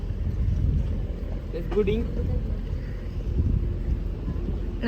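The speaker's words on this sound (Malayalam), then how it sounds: "അത് നമ്മള് നല്ലൊരു ബോട്ടിലാണ്" A boat moves across the backwaters at Alappuzha in Kerala, with a steady low engine rumble and water wash under wind noise, and brief voices heard near the middle.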